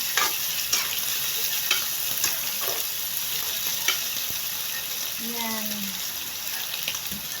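Garlic sautéing in a pan, a steady close sizzle running throughout with occasional scraping and stirring clicks, while a voice speaks briefly near the end.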